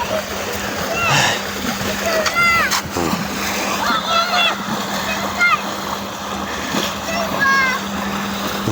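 Children shout and squeal while bathing in a fast-flowing river, water splashing continuously around them, with lively chatter and occasional high cries over a steady rushing background.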